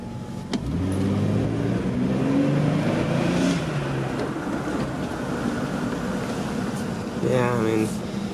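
An old Jeep climbing a steep incline with the throttle floored, its engine giving a steady, loud labouring drone with rising harmonics that lasts throughout, near and continuous.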